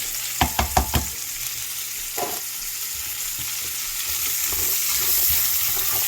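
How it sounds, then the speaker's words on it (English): Onions and celery frying in a pan used for cooking razor clams, opening with a quick burst of four utensil clacks, then a steady close sizzle that slowly grows louder, without speech. "I'm going to add my onions and celery. Let those cook down."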